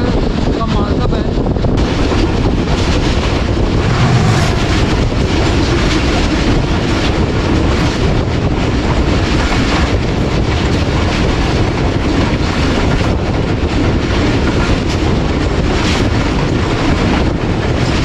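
Shalimar Express passenger train running on the line between Lahore and Karachi, a loud, constant roar of wheels on rails with clattering and heavy wind rush, recorded close from on board.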